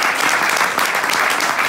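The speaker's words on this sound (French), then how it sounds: "On peut l'applaudir." An audience at a comedy show applauds a stand-up performer, a thick uninterrupted roar of clapping hands, loud and close for the full stretch.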